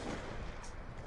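Gunfire in Call of Duty Black Ops 2 during a sniping match, a dense, loud burst of shots and blasts filling the whole moment with no pause.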